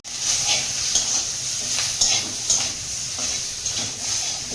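Raw cumin paste hisses loudly in hot oil in a pan, a dense continuous sizzle close up, with repeated soft scraping strokes of a spoon stirring it through.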